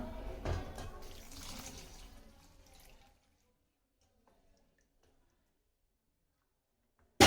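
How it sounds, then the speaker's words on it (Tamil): Water is poured from a height into a pot of gooseberry and ginger rasam, a loud splashing rush that lasts about three seconds and then stops, followed by near silence. "நம்ம இப்போ ஒரு லிட்டர் தண்ணி இதில் விடலாம்"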